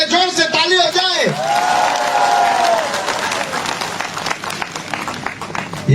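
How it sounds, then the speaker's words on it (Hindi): A rally crowd claps, brief scattered applause swelling under a shouting voice through a loudspeaker, then continuing as a moderately loud patter of many hands. "ACF के लिए जोर से ताली हो जाए।"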